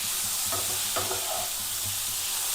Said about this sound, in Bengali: এবার দেখতে খুব সুন্দর লাগবে ভাজা হলে ফুলকপি।